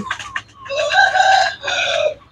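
Chickens cluck and call loudly at close range, a few short squawks followed by two longer bursts, with no talk over them.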